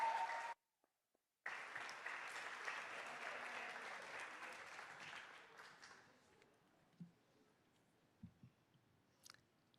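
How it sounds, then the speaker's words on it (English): A school board meeting audience gives a round of applause for the Joseph Pye school community. Dense clapping halts briefly, returns at full strength, then thins and fades to a few scattered claps and small knocks. "Let's give one more round of applause for our Joseph Pye school community."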